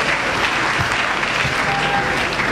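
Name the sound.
congregation applauding the Lord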